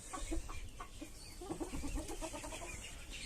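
A rooster clucks in a series of short, quick notes close by, with hens in a backyard coop setting and low background noise.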